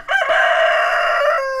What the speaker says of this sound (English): a little group of chickens like this, you'll get your daily quota of protein in the egg